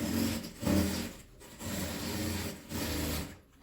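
A sewing machine topstitches the seam of an apron made from old denim jeans, running in steady bursts with short pauses between stitching runs, close up with no talking.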